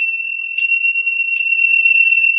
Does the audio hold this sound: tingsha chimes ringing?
yes